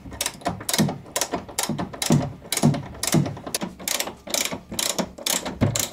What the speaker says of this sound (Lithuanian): Tai va, paskutinis varžtas prisukau